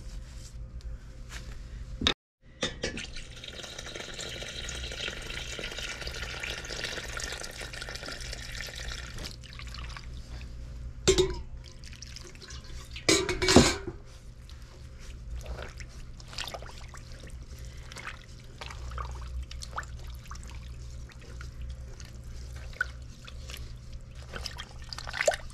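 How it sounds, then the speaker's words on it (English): Water is poured into a pot for making tea, a long steady trickle and splash running for much of the stretch, interrupted by a few sharp knocks and clatters, with no talking. "let me go add some more water to it"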